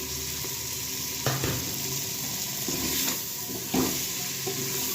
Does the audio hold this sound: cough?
no